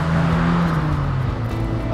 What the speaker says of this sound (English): that glorious induction noise is courtesy of the single Weber carburetor, fueling the same 2-litre inline four-cylinder twin-cam 16-valve engine